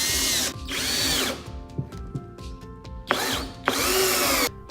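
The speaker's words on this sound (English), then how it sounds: "screw them together using at least 2-inch screws via the already pre-drilled holes." A power drill drives screws into the legs of an Ikea Lack table, with loud whirring bursts that start and stop, strained slowing as each screw seats, and brief clicks and handling noise in the pauses.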